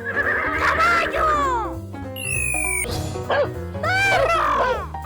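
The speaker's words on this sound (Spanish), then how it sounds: "¡Caballo!" A horse whinnies in a cartoon-like call with rising and falling cries, loud and close, among bright toy chimes, short animated sound effects and cheerful music.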